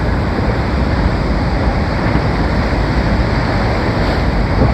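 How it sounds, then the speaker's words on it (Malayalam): The Rhine Falls waterfall in Switzerland roars up close as a loud, constant, dense rush of crashing water with no break and no voices. "അപ്പം നമ്മൾ വെള്ളച്ചാട്ടത്തിൻ്റെ അടുത്തേക്ക് പോയിക്കൊണ്ടിരിക്കുകയാണ്"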